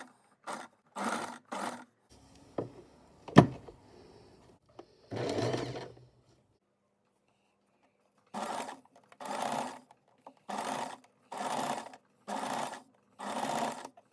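A sewing machine stitching organza runs in short, repeated bursts, about six quick runs separated by pauses, with some clattering handling noise between them; close and clear, no voices.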